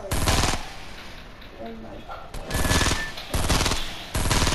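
Rapid automatic gunfire in Fortnite comes in three loud bursts separated by short pauses, with game ambience between them.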